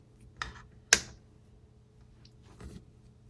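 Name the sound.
scissors cutting yarn after crocheting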